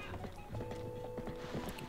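Horse hooves clip-clop in The Legend of Zelda: Twilight Princess, a quiet run of light rhythmic hoofbeats within game sounds and a sustained tonal hum, fairly faint overall.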